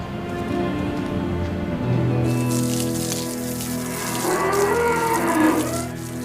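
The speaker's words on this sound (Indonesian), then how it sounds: "Sapi sebanyak ini dimandiin sama Pak Rido satu-satu" Cattle on a farm moo repeatedly, several cows lowing in long, overlapping calls close by, with a continuous murmur of the herd and farm noise underneath.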